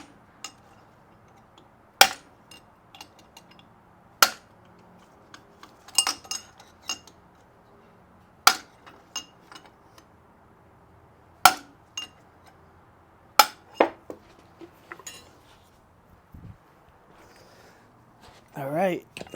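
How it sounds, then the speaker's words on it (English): A metal punch taps the inner race of a Suzuki LT250R ATV carrier bearing in sharp, evenly spaced metallic clinks with quiet gaps between them, plus a few faint knocks and rustles. "I'm actually tapping with the punch right on the inner race"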